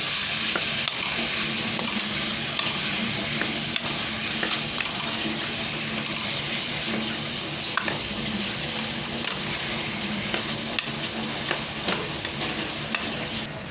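Cut potato pieces sizzle loudly in hot ghee in a pan, a dense continuous crackle and spatter with occasional stirring scrapes, close and steady throughout.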